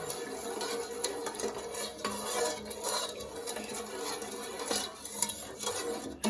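A spoon stirs and scrapes steadily in a metal pot while a mixture is blended smooth, a continuous close scraping with occasional louder clinks against the pot's sides.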